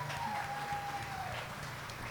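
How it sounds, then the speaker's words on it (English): Studio audience applause for Samantha on a Mother's Day special, a steady wash of clapping with a faint sustained tone running through it. "Give her a round of applause, please."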